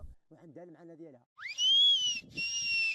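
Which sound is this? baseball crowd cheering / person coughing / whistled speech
whistled speech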